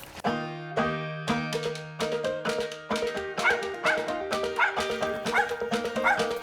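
A hunting hound bays and barks repeatedly at a treed squirrel in a steady rhythm, long drawn-out howls mixed with short yips, loud and fairly close.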